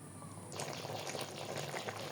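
Drumstick curry with mustard paste simmering in a pot, a steady bubbling, watery burble that swells louder after a brief quieter moment and continues close by.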